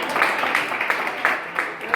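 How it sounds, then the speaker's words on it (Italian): Audience applause at an Italian awards gathering honouring a team from Asiago, a steady dense patter of many hands clapping with a few louder swells, fairly close and continuous. "E qua ci vuole un altro applauso."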